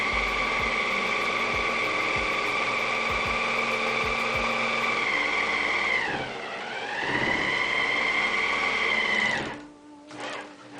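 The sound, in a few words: serger sewing machine trimming and finishing fabric edge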